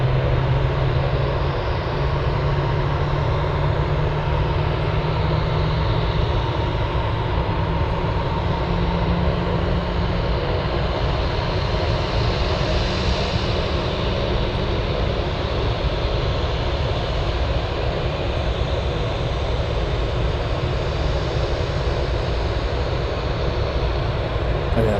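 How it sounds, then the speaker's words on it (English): A Douglas DC-3 aircraft taxiing at Anchorage airport gives a steady, droning engine rumble that holds at an even level throughout, heard from some distance. "Let's go for the DC-3 taxiing on Sierra."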